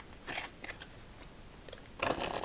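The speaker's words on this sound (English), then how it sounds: "I wonder if the regular size Cheeto Puffs would make a difference in sound. These feel kinda sharp and quick." Cheetos cheese puff balls crunched close up, a few sharp, quick crackly bursts separated by quiet gaps, with a louder crunch near the end.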